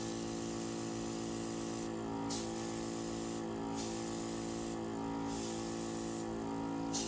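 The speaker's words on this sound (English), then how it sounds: "Now I'm going to move it with the airbrush." An airbrush sprays alcohol ink in a steady close hiss, with a brighter burst of air roughly every one and a half seconds as the trigger is worked.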